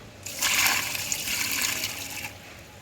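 Water gushes and trickles steadily out of soaked coco peat for a couple of seconds, fairly quiet and close, then tapers off.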